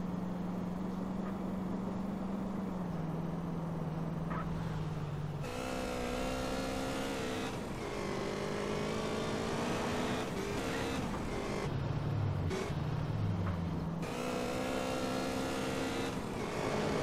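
A car engine drones steadily while driving in GTA San Andreas, with the motor's pitch rising and falling through gear changes and throttle shifts, loud and continuous with no talk over it.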